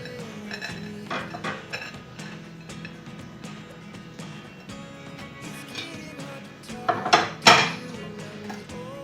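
A baked butter babka is turned out of its tin onto a plate, with soft metal-and-ceramic clinks and scrapes building to a few loud, close clanks near the end.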